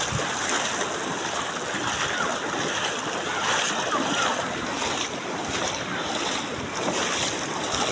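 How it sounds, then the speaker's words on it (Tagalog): Floodwater rushes hard through Puago, Kiamba, Sarangani province during a sudden flood, a loud, steady broadband roar of churning water with wind buffeting the microphone, continuous and close for the whole stretch. "Guys, napakalakas po ng tubig."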